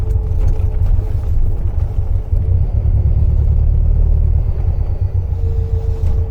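A Volkswagen Beetle on the move, its engine and road rumble droning loud and steady throughout, with a low, heavy tone and faint higher whine, close and continuous with no voices.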